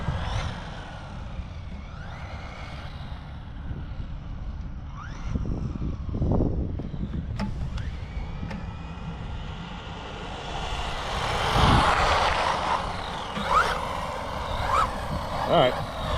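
LRP BX3 4WD club-racer RC buggy running on a 2S battery outdoors, its electric motor whining as it speeds up, passes and fades, with rising and falling pitch over a low background rumble.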